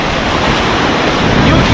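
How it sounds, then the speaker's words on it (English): Ocean waves wash onto a beach in Goa as a loud, steady roar of surf, mixed with heavy wind buffeting the microphone. "Listen to the waves sound."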